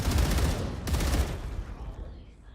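Rapid gunfire with heavy recoil from the sci-fi survival game StarRupture, a dense burst of loud close shots that pauses briefly, then resumes and trails off.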